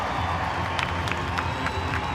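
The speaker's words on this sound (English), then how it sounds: "The applause from the sideline." A rugby crowd at a women's World Cup pool match between New Zealand and Scotland cheers and applauds after a try, a dense, steady roar with scattered claps and shouts heard from the sideline.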